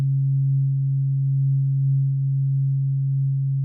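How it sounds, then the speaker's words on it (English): A tuning fork hums a steady, pure low tone held close to the microphone, unchanging for a few seconds before cutting off. "a tuning fork, ding, it makes a sound"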